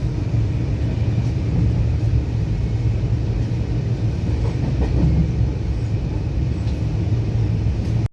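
The Howrah–Tirupati Humsafar Express rumbles steadily with a continuous loud roar of wheels and carriage noise and faint clickety-clack, heard alone.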